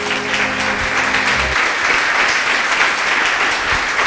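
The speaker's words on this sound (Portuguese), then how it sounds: "Louve ao Senhor com suas palmas." Church congregation applauding during a Portuguese-language worship service, a loud, steady roar of many hands clapping throughout, with a low sustained tone fading early on.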